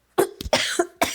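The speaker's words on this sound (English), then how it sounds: "I just had a cough attack" A few sharp coughs in a close, quiet room, with a short pause between bursts and a rough throat-clearing quality.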